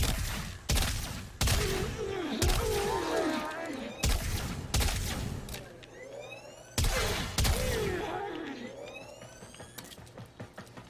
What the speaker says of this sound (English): this gun, the shotgun mode is great for sweeping through lower level enemies